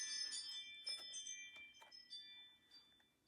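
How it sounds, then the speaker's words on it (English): A new outdoor security light with a motion-triggered chime sounds a few bright, ringing bell tones that ring out and decay over a few seconds, faint against a quiet background, with no talking. "Did you hear that bell? That signifies that somebody's walking past our house."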